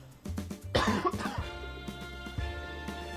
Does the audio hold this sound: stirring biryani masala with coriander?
no